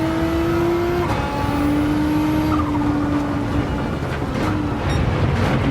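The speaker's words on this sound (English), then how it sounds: "If you listen closely, you can hear the blow-off valve from the turbo." Racing car engine in Gran Turismo 7 with a turbo, accelerating steadily past an older Nissan GT-R, its tone shifting as it revs, with faint higher hissy whooshes that fit a blow-off valve release.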